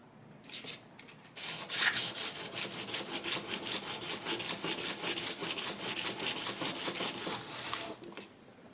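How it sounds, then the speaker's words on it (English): A knife edge is drawn over a sharpening surface in a fast, steady run of close, scraping strokes that starts after a brief pause and continues for several seconds, with no one talking. "if you are sharpening the other side, you hold it like this"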